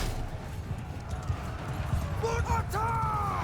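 Horses gallop into battle in Mount & Blade II Bannerlord, with a dense patter of hoofbeats under steady low combat rumble and a short whinny-like cry near the end.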